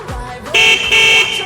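An e-rickshaw horn sounds in two loud, close, steady electric blasts of roughly a quarter to a third of a second each, separated by a short gap, with a faint thump before them.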